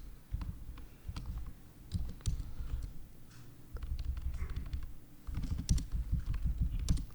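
Typing on a Commander X16 computer keyboard, a steady run of light, close key clicks and taps with irregular rhythm, continuing for several seconds without speech.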